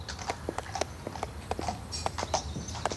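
A horse's hooves clip-clop in a steady walking rhythm as it is led toward a stable, each hoof strike a crisp, close knock over a low background hum.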